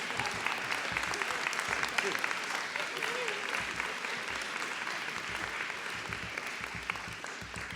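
A graduation audience claps steadily and densely through a hooding ceremony, a full, even wash of applause from many hands with no pauses.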